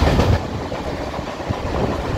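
A local train pulls into a station with a steady, loud rumble and clatter of wheels on rails, close by, with no voices.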